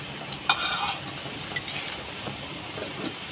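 Chicken stew vegetables bubble softly in an uncovered pot, a low steady simmer with a few clinks of a utensil against the pot early on.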